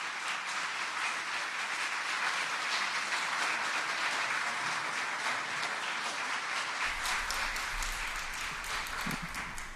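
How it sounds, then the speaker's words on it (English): An audience at a golden anniversary awards gathering claps steadily and evenly throughout, a dense wash of applause heard from within the room. "So let's give them a round of applause."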